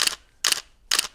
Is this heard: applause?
no